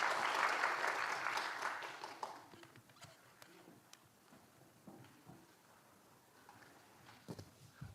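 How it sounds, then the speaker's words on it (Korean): An audience at a church lecture gives grateful applause to the lecturer, a burst of clapping that is strongest at the start, then fades into scattered, sparse claps and faint room noise. "우리 다시 한번 귀한 강의를 해주신 대표님께 그 격려의 박수, 감사의 박수 전해주겠습니다"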